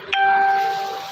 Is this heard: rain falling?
no